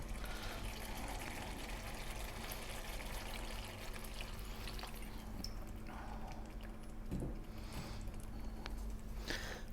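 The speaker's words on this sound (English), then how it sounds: "is just add a little bit of water." Water poured into a pan of cooking lamb curry with tomatoes, giving a steady, continuous hiss and splash that runs evenly throughout at moderate level, with no voices.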